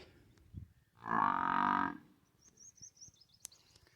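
A single buffalo moo, just bought the day before, lasts about a second, fairly close and clear, with faint farmyard noise and a thin high bird chirp afterward.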